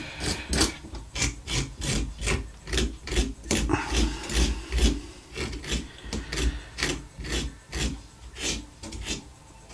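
Steady rhythmic rasping strokes of a carving or smoothing tool working the lips of a Halloween jack-o'-lantern pumpkin, repeated many times at close range with no talk.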